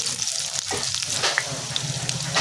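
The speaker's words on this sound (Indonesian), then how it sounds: "Daun salam, daun jeruk. Kita tumis sampai wangi ya." Bay leaves and lime leaves sautéing in a pan for a spicy squid stir-fry, giving a steady, soft sizzle with faint crackles throughout.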